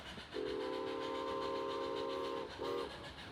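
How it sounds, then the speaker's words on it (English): The Chama train's whistle sounds one long, loud blast, then a short second toot, its tones ringing out clearly and echoing over quiet valleys. "the train whistle echoes across valleys"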